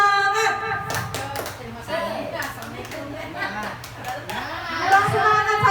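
A group of people does the 'tepuk semangat' clapping ice breaker, with rhythmic sharp claps in bursts mixed with lively voices and children's chatter throughout.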